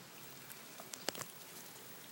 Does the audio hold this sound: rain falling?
yes